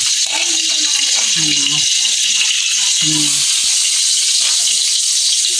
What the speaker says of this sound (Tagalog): Ayan, nagprito ko ng mublad.